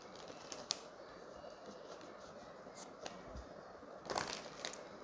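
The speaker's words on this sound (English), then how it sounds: "I'll now shuffle." Tarot cards shuffle during a reading, giving soft papery riffles and scattered taps that end in a brief denser flurry of card noise. The sound is close and quiet, with no talking.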